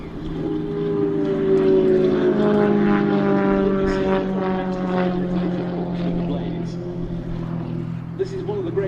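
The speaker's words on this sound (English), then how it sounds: "This is one of the great aerobatic aircraft produced by the West, named for its founder, the German aerobatic pilot and aeronautical engineer Walter Extra" An Extra 300S aerobatic propeller plane makes a display pass at RAF Mildenhall. Its loud, droning engine buzz holds steady, then slowly shifts in pitch as the plane passes, with no speech over it.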